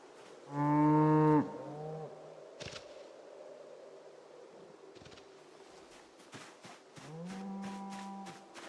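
Cows moo in Project Zomboid, two drawn-out moos near the start and end, each loud and close, over a faint windy ambient background.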